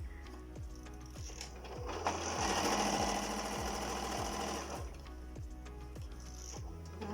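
A domestic sewing machine stitches cloth for loose pakama-fabric trousers at home, running in a steady rapid mechanical whir with rhythmic ticking, speeding up briefly in the middle before settling back, close and alone.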